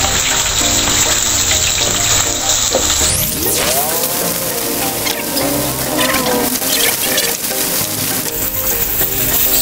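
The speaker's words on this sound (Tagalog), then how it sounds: "piprito natin muna yung patatas. Halu-haluin lang natin siya hanggang mag golden brown po yung patatas natin." Potato pieces fry steadily in a pan, a loud, close, continuous sizzle with scraping and stirring noises scattered through it and no talking.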